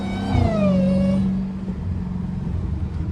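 A Dodge Hellcat rounds a corner, its engine note sweeping down from a strong rev into a lower steady rumble, close and fairly loud.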